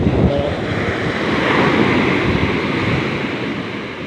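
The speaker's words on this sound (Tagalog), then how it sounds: "lalaki pa ho ng alon, miski ho pakati na ang tubig" Steady roar of surf and wind, a continuous broad wash of large ocean waves crashing close by, reaching beached boats, with no voices.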